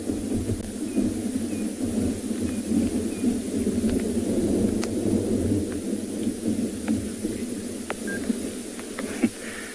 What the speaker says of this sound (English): listen to that thunder